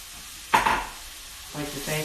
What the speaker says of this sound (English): now that this oil is hot, I've got about a cup of diced onions here that I'm going to throw in